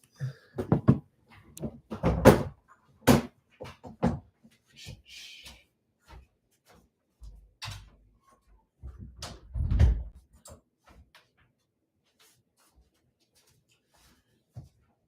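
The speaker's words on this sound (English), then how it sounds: "Just wanted to shut the door." A door is shut indoors, giving sharp knocks and thuds in a scattered run of bangs, with quieter shuffling between them and no talking.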